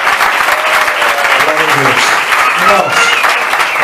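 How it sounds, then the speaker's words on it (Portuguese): A church congregation claps together in sustained, dense applause that fills the room. A voice speaks over the clapping throughout. "Glorifique ao Senhor com as suas palmas"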